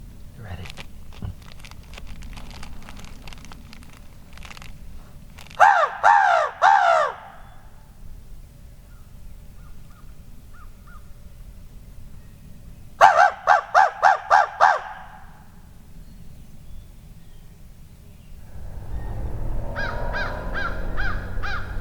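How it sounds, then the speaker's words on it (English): A hunter's crow call sounds out in two bursts of several harsh, rapid caws, with real crows cawing in reply amid light outdoor noise and a rising engine rumble at the end. "I'm calling a crow."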